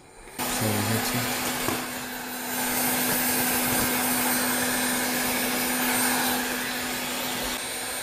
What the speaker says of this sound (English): we're gonna heat it up with a gun